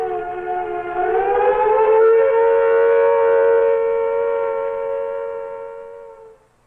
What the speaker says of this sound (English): The standard attack warning signal is a 3 to 5 minute wavering sound like this.